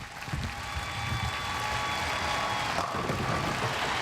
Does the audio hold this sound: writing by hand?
no